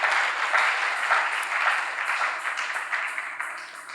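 A church congregation applauds together, a dense, steady roar of clapping that holds for several seconds before tapering slightly.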